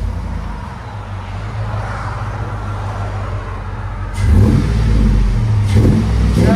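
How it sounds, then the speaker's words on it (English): A 2005 Chevy Tahoe with a 4-inch Flowmaster Flow FX exhaust idles with a deep rumble, then revs up sharply twice in quick succession, loud and close, with no talking. "2005 Chevy Tahoe. FLOWMASTER Flow FX,"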